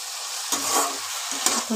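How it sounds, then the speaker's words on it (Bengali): Spices frying in a pan as a spoon stirs them, giving a few quick, close scraping strokes over a bright sizzle in a short burst, with no speech. "এবার এগুলোকে আমি খানিকক্ষণ একটুখানি নাড়াচাড়া করে নেব"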